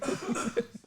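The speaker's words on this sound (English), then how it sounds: "That's the worst when you have to cough in production" A person coughs a few times in quick, close, short bursts during a studio talk-show conversation.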